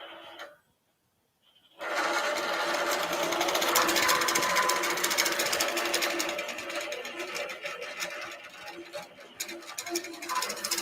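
A sewing machine quilting out past the edge of a quilt runs loud and steady after a brief pause, a fast continuous mechanical whir.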